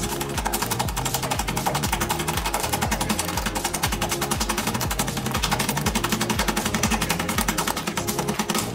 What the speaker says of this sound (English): it asks for it to be whisked until it's a little fluffy